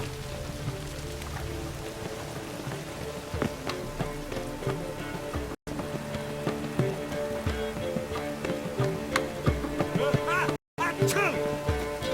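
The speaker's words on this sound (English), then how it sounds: "Let it rain." Rain patters steadily in The Witcher 3: Wild Hunt, with faint drops hitting surfaces under music and occasional soft clip-clop, running throughout at moderate level.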